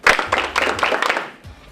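Students in a school welcome an NFL player for the Los Angeles Chargers with a burst of clapping, a group of hands slapping in quick, loud, irregular bursts that fade slightly toward the end.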